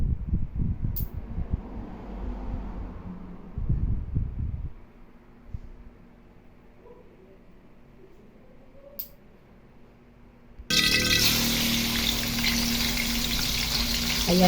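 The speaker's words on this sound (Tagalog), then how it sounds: "lutuin ko muna yung ating marinated na chicken, boneless chicken" Marinated boneless chicken meets a hot pan, bursting into a dense, close sizzle in the last few seconds after quieter kitchen rustling, handling noises and near silence.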